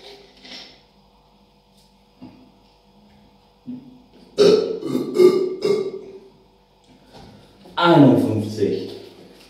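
Loud, wet burps from a person, one long eructation in the middle and another heavy one near the end, separated by quieter throat noises.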